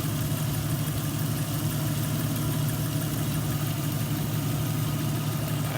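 Jeep engine running steadily at idle, a constant low mechanical hum with an even rumble, close and unbroken.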